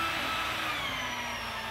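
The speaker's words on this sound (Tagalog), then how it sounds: "Yan po ay drill para po magkabutas sa gitna." A power drill bores holes through steel during a tower installation, a steady, loud, high motor whine that holds continuously throughout the short burst, with no talking.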